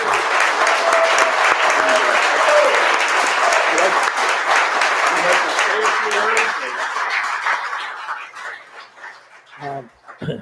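Applause at a county board meeting honouring a boys varsity cross-country team: sustained, loud clapping that thins and fades after several seconds, with a few scattered claps and voices near the end.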